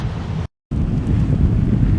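Wind blows hard across an ocean beach, roaring steadily into the microphone with deep buffeting rumble and a brief dropout of total silence partway through.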